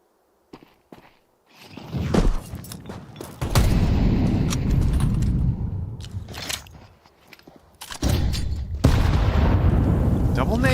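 Two grenades explode in a Counter-Strike match, each a loud, dense burst of crackling rumble, the pair separated by a few seconds with quieter footsteps and clicks in between.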